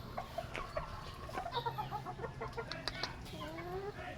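Roosters of a Kanawayon battle cross gamefowl line cluck softly and repeatedly nearby, short clucks scattered over faint background noise, fairly quiet.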